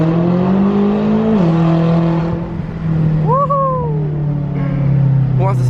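BMW F10 M5 engine revving, a loud close rising drone that dips and falls back, followed by a steady idle-like hum with brief faint squeaks, and no talking over it.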